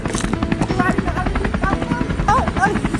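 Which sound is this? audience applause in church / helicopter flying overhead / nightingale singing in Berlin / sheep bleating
helicopter flying overhead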